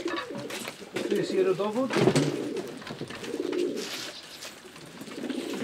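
A racing pigeon of Janssen and De Klak lineage coos close by in a loft, soft rolling calls repeating under someone speaking Polish.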